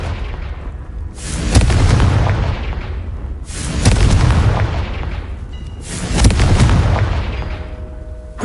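Three Confringo spell explosions in Hogwarts Legacy land roughly two seconds apart, each a loud, deep close-range boom that swells and rumbles before fading into the next.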